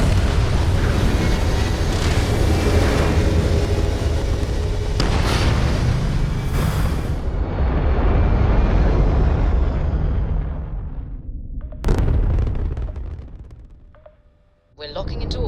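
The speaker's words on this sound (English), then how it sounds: "All thrusters firing." Spaceship thrusters fire in the video game Starfield, a loud, deep roaring rumble that holds, then fades and cuts out, with a sharp burst near the end and voices over it.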